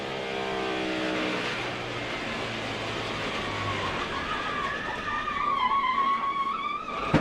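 A NASCAR race car blows its engine going into a corner at Chicagoland. A continuous loud roar of racing engines builds toward a rising, strained whine near the end, with no talk over it.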